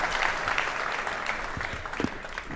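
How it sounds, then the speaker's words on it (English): A live podcast audience gives a round of applause, a short, fairly soft burst of clapping that runs steadily for a couple of seconds. "Give them a round of applause."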